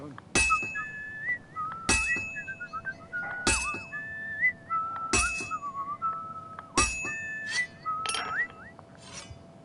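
Metal rings out in regular hammer strikes during forging in the video game Kingdom Come: Deliverance 2, five or six bright clanging blows spaced about every second and a half, with a whistled tune weaving between them.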